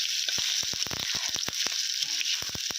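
Boiled potatoes fry in hot oil over a night-time village cooking fire, a loud continuous hiss studded with rapid sharp pops and spatters.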